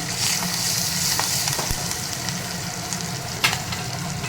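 Curry leaves and asafoetida sizzle in hot oil in a pan for a horse gram rasam, a steady close crackle with a few soft clicks and scrapes as they are stirred, no voices.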